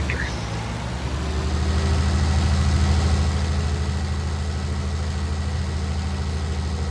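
A Fendt tractor engine idles in the Farming Simulator video game, a steady low droning hum that stays loud and even throughout, with someone talking over it.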